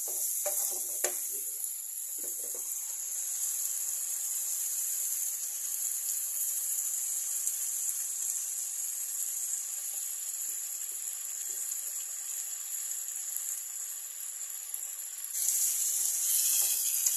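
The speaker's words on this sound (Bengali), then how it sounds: "আগে মশলা ভাজা করে নিই, তারপরে দেবো" Spices frying in oil for a meat curry give a steady, close hiss across the whole stretch, with a few faint clatters near the start and a slightly louder surge near the end.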